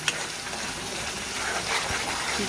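Spinach being stirred and cooked in a pan, giving a steady close sizzle with soft scraping stirs and a brief clink near the start, no voices.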